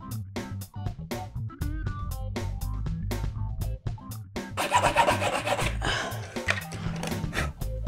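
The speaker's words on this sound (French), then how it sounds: "scier chaque endroit où il y aura une frette à l'aide de la scie à métaux sur une profondeur d'environ 2-3 mm" Hacksaw cutting fret slots about 2–3 mm deep in wood using a mitre box for a cigar box guitar, rapid rhythmic rasping strokes close up, growing denser and harsher midway.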